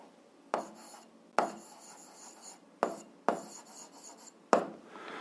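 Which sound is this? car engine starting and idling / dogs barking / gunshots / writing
writing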